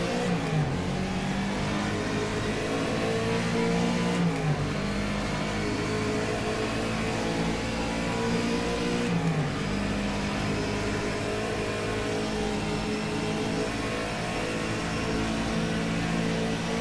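Engine of a 1965 Howston G6 MkI race car with about 400 horsepower, driven on a Longford-style road circuit in rFactor 2: a loud, steady mid-range roar held close throughout, with brief dips and revs as gears change.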